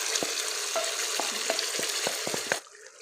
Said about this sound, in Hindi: हल्का हल्का फ्राई कर लें।